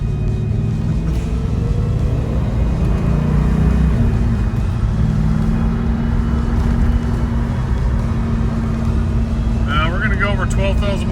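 A 1993 Ford SVT Cobra cruises along a road, heard from inside the car. The engine holds a steady low rumble and drones on continuously throughout.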